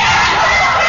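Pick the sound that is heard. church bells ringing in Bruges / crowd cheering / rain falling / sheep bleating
crowd cheering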